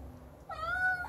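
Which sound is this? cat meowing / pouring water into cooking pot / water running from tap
cat meowing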